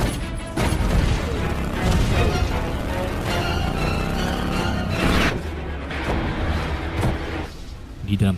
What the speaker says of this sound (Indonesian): Johnny merubah sebuah truk menjadi Hell Truck, lalu menabraki beberapa mobil